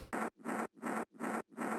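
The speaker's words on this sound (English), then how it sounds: "kick crunch for texture." Compressed crunchy kick layer from a hard techno track, five evenly spaced gritty noisy hits, each lasting about a quarter second with short gaps between, close and dry.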